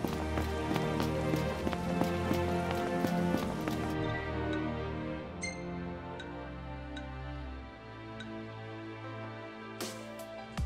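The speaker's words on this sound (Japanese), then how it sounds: "雨降ってきたな。" Rain falling in the Final Fantasy XV open world, a steady wash of drops pattering on surfaces with game music and ambient tones layered over it throughout.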